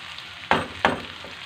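Rice with peas and carrots is stirred and turned in a sizzling pan, with two loud scraping sweeps over a steady background crackle and a fainter third stir near the end.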